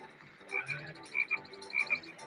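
Frogs in Diddy Kong Racing croak in short, bright paired calls repeating at a quick rhythm over a quiet game background, with no talk.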